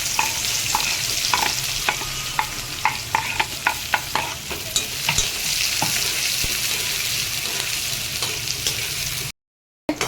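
Chopped onion frying in a pan, a dense steady sizzle with a series of sharp spatula taps and scrapes from stirring, ending in a brief drop to silence.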